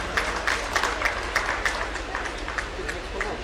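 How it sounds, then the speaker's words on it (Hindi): Applause from an audience at a foundation-stone ceremony for three bridge and road projects, a steady patter of many hands clapping at moderate volume throughout, with faint talk underneath. "तालियां हो आप सबकी तरफ से स्वागत अभिनंदन स्वरूप।"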